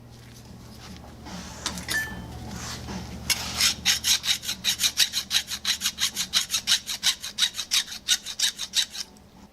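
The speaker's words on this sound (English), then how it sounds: "we're going to take care of the burrs with a file" Hand file rasping burrs off a racing 4-speed transmission part, starting with a few scattered scrapes and then settling into a steady run of quick, even back-and-forth strokes, close and fairly loud.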